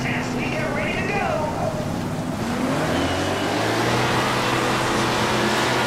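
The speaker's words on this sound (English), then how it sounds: "Listen to the engines as we get ready to go." Dirt-track race car engines in the video game World of Outlaws: Dirt Racing 24 rumble and whine, with revving rising over a dense, loud roar, and a voice briefly audible early on.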